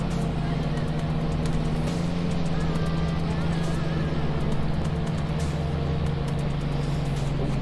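A tractor in Farming Simulator 19 drives along a headland, its engine a steady low drone that holds throughout at moderate loudness.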